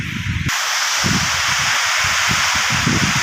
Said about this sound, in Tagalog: Nilumos na talaga ang ulan.